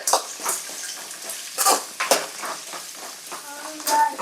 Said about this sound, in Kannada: ನೀರುಳ್ಳಿ ಒಂತೆ ಎಣ್ಣೆಡು ಫ್ರೈ ಆವಡು